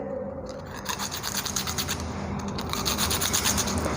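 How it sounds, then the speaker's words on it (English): Magnesium ribbon rubbed on sandpaper to clean it, a close, continuous gritty scratching in quick back-and-forth strokes, growing slightly louder toward the end, with no talking. "we have to rub this ribbon over a sandpaper like this"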